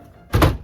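A single short, solid thunk from a door closes sharply and close by, followed by a brief quieter rattle.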